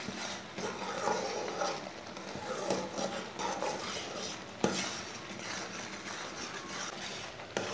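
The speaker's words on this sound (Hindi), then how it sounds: "इसे ऐसे ही चम्मच चलाते हुए 5 मिनट तक पका लेंगे।" Guava jam cooking in a pot while a spoon stirs it, a soft continuous scraping and bubbling with occasional light clinks of metal against the pot, quiet and close, no voices.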